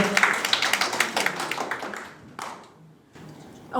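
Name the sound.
audience applause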